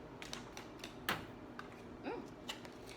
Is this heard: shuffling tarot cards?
yes